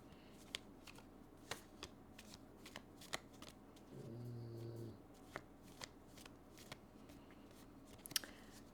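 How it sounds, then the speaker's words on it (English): Tarot cards shuffled by hand in a quiet room: sharp, soft riffling snaps come at irregular intervals, with a brief low murmur partway through. "Or I could just start shuffling and we can see what throwing a couple cards mean."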